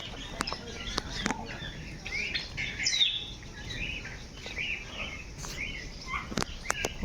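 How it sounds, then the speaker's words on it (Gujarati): Parrots at Pradhyuman Park zoo in Rajkot give short, bright chirps and tweets in scattered bursts, fairly near, over a steady outdoor background hum. "આ તો મિત્રો આપણે ગામડે ઘેરે મિત્રો જે પોપટ હોય ને પોપટ એ જ છે"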